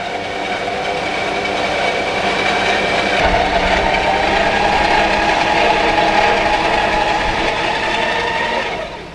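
Winch pulling a campervan during a double line recovery, a loud continuous motor whine and grinding drone held for about nine seconds, steady and close, with no talking.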